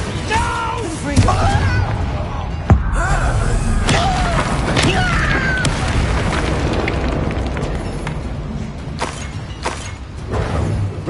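In Hogwarts Legacy, a Confringo explosive spell goes off amid a busy combat soundscape, with booming blasts, a sharp crack near the middle and layered magical effects, while a voice speaks briefly.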